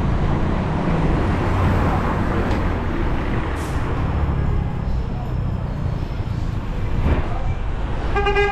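Busy street traffic rumbles around a pedestrian crossing while voices talk nearby, and a car horn gives a brief honk close to the end over the roadway noise.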